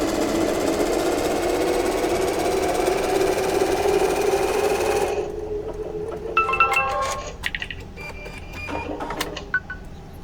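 SEWTECH embroidery machine with a magnetic hoop stitching a batting placement line: a loud, steady mechanical whir and rapid needle rhythm that stops partway, then gives way to scattered clicks and clunks from the machine.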